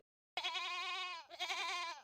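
A goat lets out two loud, close bleats, the first long and wavering, then a shorter second cry after a brief break, with nothing else around it.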